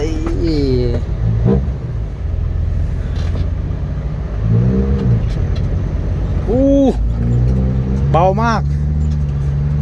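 A dump truck with a newly fitted rear differential rumbles steadily along in first gear, its low engine drone continuous and close, while people talk and call out over it.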